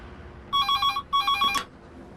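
An electronic telephone rings inside a phone box, sounding two bright trilling bursts separated by a brief gap, loud and close with no voices.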